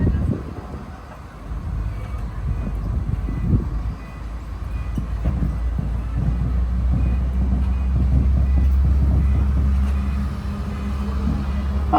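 Magic Kingdom parking lot tram at Walt Disney World rumbling steadily through a U-turn, a low continuous drone of motor and wheels with faint rattles, heard from on board.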